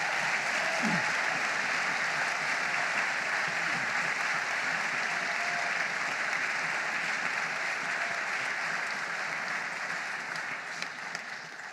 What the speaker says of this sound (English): please could we give a round of applause for this great opportunity for our students